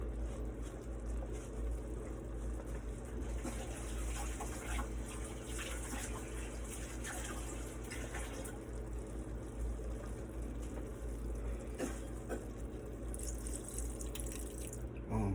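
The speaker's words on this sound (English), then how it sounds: "Now we're gonna add a little water to it." Water poured into a pan of cooking onions and bell peppers, a steady running pour and sizzle with faint drips, continuous and close throughout.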